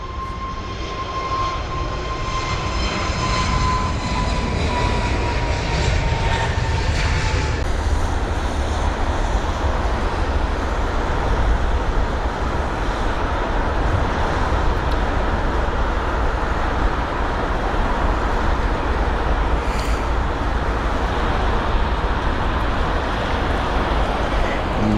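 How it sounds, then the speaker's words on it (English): A TAP Air Portugal Airbus A321neo jet departs Heathrow with a loud, continuous broadband engine roar that stays steady and powerful throughout, a fading high whine early on over the dense rumble. "We have got the TAP Air Portugal A321 Neo on departure heading to Lisbon"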